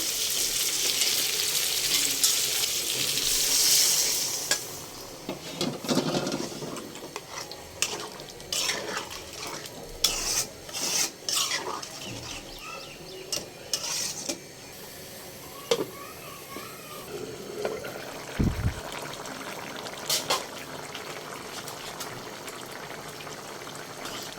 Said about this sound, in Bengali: যে কড়াইটার মধ্যে আমি মুরগিটা রান্না করেছিলাম সেই কড়াইটা ধুয়ে একটু পানি দিয়ে দেবো